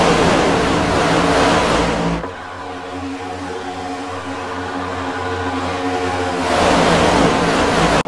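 Race cars roaring around Daytona in the iRacing sim, a loud sustained engine drone that drops to a lower, steadier hum midway before swelling back up, with no talk.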